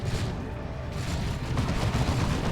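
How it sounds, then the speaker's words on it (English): A melter bomb exploding in Dawn of War 2, a muffled rumbling blast amid a dense, low roar of battlefield noise with no clear single bang standing out. "There's a Melter Bomb."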